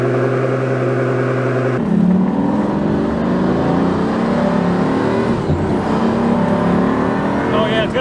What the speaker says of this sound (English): that single clutch kick. Ooh, and some turbo noise too.